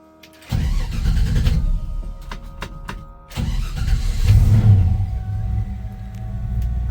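A 1966 Chevy C10 truck's engine cranks and catches, dies, then is started again and settles into a loud, rough idle that rumbles up with a rev, close and without talk.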